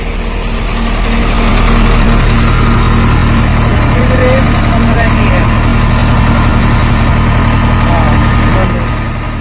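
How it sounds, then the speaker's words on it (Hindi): A Swaraj 744 FE and a Mahindra 575 tractor run side by side in first low gear during a speed race, their diesel engines droning loud and steady up close throughout. "इस बार फर्स्ट के लो गियर में चल रहे हैं दोनों ट्रैक्टर"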